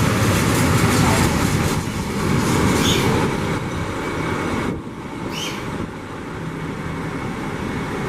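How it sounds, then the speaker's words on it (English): A purple and yellow JR train rumbles in along the tracks to a platform in Japan, steady broadband noise with faint squeals as it slows, fairly loud and close throughout. "Here comes our train."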